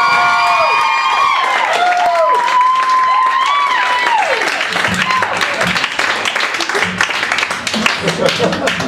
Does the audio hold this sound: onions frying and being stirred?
no